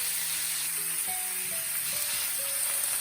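Mince fries in a Teflon pan and is stirred with a wooden spoon, a soft, steady sizzle under faint background tones with occasional light scrapes.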